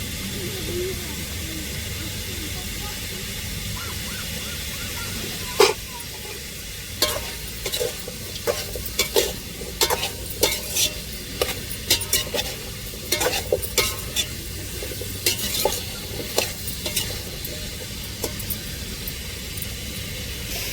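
Broad beans and onions sautéing in a pan in a home kitchen, a steady sizzle and hiss under repeated scraping, clicking stirs of a spatula, close and continuous.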